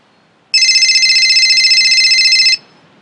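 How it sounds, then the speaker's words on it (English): A telephone rings indoors with one loud, steady electronic trill lasting about two seconds, sharp onset and abrupt stop, alone against near silence. "It's the phone."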